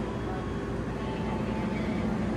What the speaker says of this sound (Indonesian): saat ini kereta api Airlangga telah tiba di stasiun Cikarang